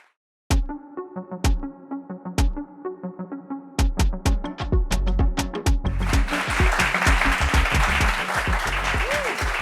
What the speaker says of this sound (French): Applaudissements pour nous.